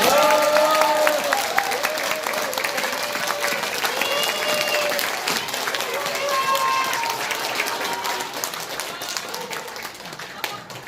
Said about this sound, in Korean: 우리가 우리끼리 박수 한번 쳐요